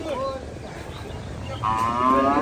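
Cow lowing at a rainy cattle market, a short low moo early on, then a longer, louder, strained call rising near the end over steady crowd and rain murmur.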